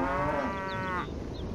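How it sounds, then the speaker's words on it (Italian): A cow's long, drawn-out moo from the video game Stronghold Crusader, loud and close over a steady game background, fading into ambient noise after about a second. "guardate quante mucche"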